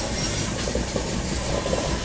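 The Pushpak Express passing a railway crossing, heard as a loud, continuous broadband rumble and roar of wheels and carriages with a steady hiss throughout, and no talking.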